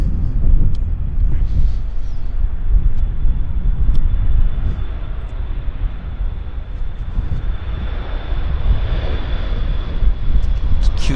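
A Delta Embraer jet takes off at Vancouver Airport, its engines producing a loud, continuous broadband roar that holds steady for the whole stretch, with a faint high whine riding above.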